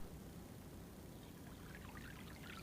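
Honey-colored spring runoff water trickles and pours in a faint, continuous wash, with brighter splashing flickers toward the end and no voices.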